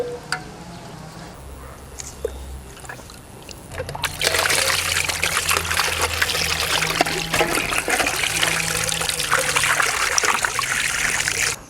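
Tap water runs steadily while raw chicken is washed and cleaned of fat, a soft trickle that swells into a louder continuous splashing stream partway through.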